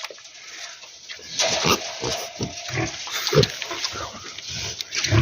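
Pigs and piglets grunt in a barn where sows are farrowing, with a steady mix of low grunts and snorts close by and continuous snuffling underneath.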